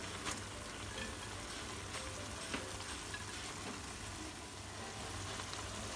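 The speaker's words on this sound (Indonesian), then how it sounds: "setelah togenya masuk langsung aja diaduk karena togenya hanya sampai layu aja" Bean sprouts are stirred into a hot pan of reduced, seasoned sauce, giving a steady, even sizzle of frying throughout with faint stirring and no talk.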